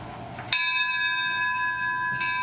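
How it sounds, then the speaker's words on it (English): A hand bell rung once in a stage play, a sharp strike followed by a long, clear ringing tone that sustains and slowly fades, with a lighter second jingle near the end. "I'll ring the bell."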